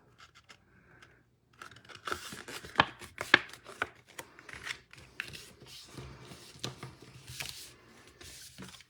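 Cardstock card base being folded in half and creased by hand for a Stampin' Up! Christmas card, a run of soft paper rustles, sharp creasing clicks and scrapes on a tabletop, close and fairly quiet, with no talking.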